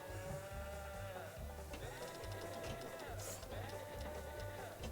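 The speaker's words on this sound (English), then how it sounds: "this goat music is very distracting." Game music from the Infinite Bandits table in Pinball FX, built on repeated goat-like bleats over a steady musical bed and continuous machine sounds.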